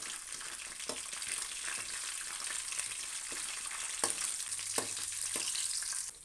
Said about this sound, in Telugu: అలాగే ఒక 4-5 వెల్లుల్లి రెబ్బలు, ఇవి ఈ విధంగా మంచిగా గోలేలాగా కలుపుకోవాలి.